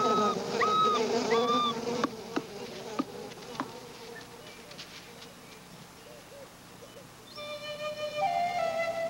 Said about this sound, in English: With bees clinging to her back, Solo is apparently unable to find the den